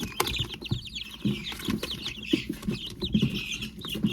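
Guinea fowl are picked up and carried by hand while moving between brooders, giving off scattered chirps and clucks over rustling and scuffling, close by, with no talking.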